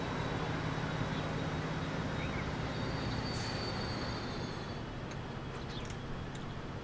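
A train rolls along in the Transport Fever 2 video game on a UK route, a continuous dense rumble of wheels on track with faint high squeals, steady and loud with no speech.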